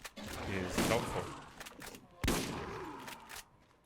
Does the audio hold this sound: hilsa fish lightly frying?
no